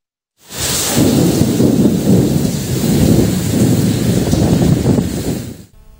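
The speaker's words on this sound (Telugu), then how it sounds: "ఉరుములు, మెరుపులతో భారీ వర్షం కురిసింది" A thunderstorm with heavy rain in Konaseema district brings loud, continuous downpour and rolling thunder for several seconds, then an abrupt cutoff.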